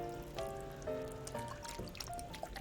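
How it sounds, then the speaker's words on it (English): Stock poured into a pot of green minestrone, a steady close trickle and splash of liquid with a faint ringing hum underneath, continuous throughout. "So we're gonna add more stock."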